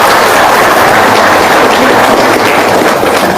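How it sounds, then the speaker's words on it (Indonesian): An audience at an Islamic religious talk applauding: a steady, dense wash of clapping that holds at an even loudness throughout. "Sep, tepuk tangan dong."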